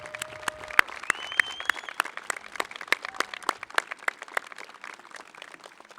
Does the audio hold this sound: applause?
yes